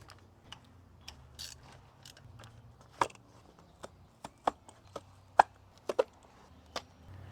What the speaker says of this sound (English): Next up, we can pull the spark plugs out.